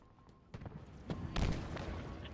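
Explosions from a Halo game sound as a few muffled booms and blasts in quick succession, louder toward the middle of the clip.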